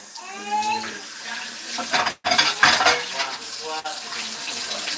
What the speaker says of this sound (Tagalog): Magugas tayo ng pinggan.